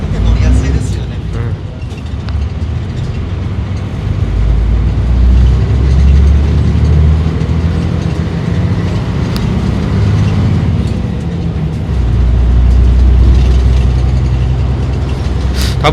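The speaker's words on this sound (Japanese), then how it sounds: "エンジン音だよね。 6M70 だよねこれ。" A Mitsubishi Fuso Aero Bus with a 6M70 diesel engine runs at a steady, deep rumble that swells now and then, heard from inside the cabin while passengers talk over it.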